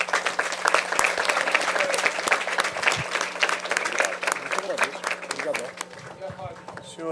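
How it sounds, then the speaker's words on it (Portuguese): A large audience of students and community members at a parliament school event on political education applauds with loud, continuous clapping, while voices talk briefly near the end as the clapping dies away. "quero uma grande salva de palmas para vocês que estão aqui"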